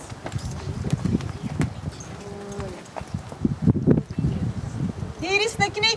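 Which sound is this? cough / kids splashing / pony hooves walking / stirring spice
pony hooves walking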